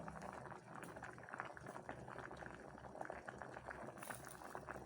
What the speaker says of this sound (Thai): เคี่ยวอีกสักห้านาที จนไข่สุกนะคะ